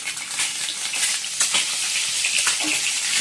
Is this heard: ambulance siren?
no